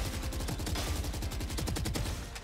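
Rapid automatic gunfire sprays continuously in a Valorant aim drill, a dense, loud burst of closely spaced shots with no pauses, heard alone without talk.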